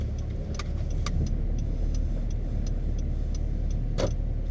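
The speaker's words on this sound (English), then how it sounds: "Today's vehicle is actually my personal car. It's a 2012 Honda Civic Coupe." A 2012 Honda Civic EX Coupe driving, a steady low engine and road hum from inside the cabin with a few faint rhythmic ticks, no talk.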